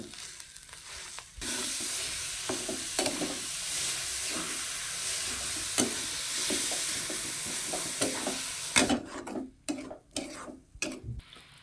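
Grated jaggery filling for modak being stirred in a pan, with a steady sizzle and repeated scraping strokes of a spoon, a sharper burst of clinks and scrapes near the end.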